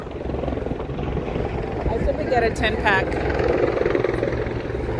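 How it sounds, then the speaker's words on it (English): A helicopter lands near a New York City ferry, its steady rotor and engine drone running throughout beneath a person talking nearby. "there's the helicopter"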